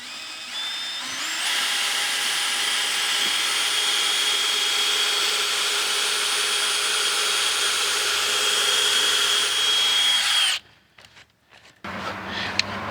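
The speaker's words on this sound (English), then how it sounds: "I'm going to drill a pilot hole here just to be sure that everything is as we think it is." A power drill boring a pilot hole for a breaker panel, whining loud and steady for about nine seconds before stopping abruptly, followed by brief handling noises.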